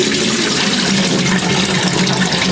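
Rice being rinsed in water in a home kitchen, a steady close splashing and swishing of water with a faint running-tap trickle, continuous and fairly loud with no talking.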